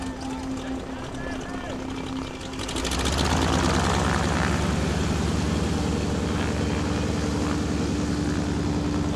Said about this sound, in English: Nyko Skytypers now on takeoff roll down there on the left, the SNJ-2.